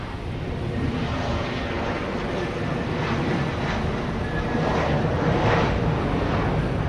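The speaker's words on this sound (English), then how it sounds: "Okay, the Delta plane is rolling." Delta jet airliner rolling for takeoff at Dallas Love Field, heard as a steady, loud broadband engine roar that swells slightly toward the end, with no talking.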